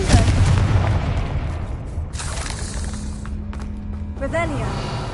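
The Confringo explosive spell cast in a video game: a loud booming blast with crackling debris that decays, then a second burst of shattering effects near the end.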